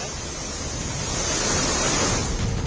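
The Song River in Dehradun rushes in full flood after relentless heavy rain, a loud continuous roar of churning water with wind-like hiss, swelling slightly midway and heard without voices.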